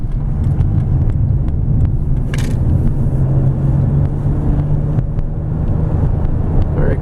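A 2002 Ford Taurus SE with a 3-liter V6 accelerating on the road, a steady low engine and road drone with wind rush around the cabin, continuous and fairly loud from inside the car.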